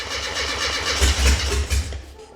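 A classic Mini car engine being cranked on choke, a low rumbling turnover that surges and catches briefly over about two seconds, close and fairly loud with no voices.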